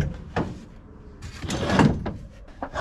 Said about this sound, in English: So let's move the driver's seat forward and see what happens.